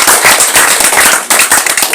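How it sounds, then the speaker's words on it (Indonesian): A crowd applauding at a Tanimbar Baru campaign gathering, brisk, close, steady clapping filling the short moment with no pauses. "Aplaus dulu."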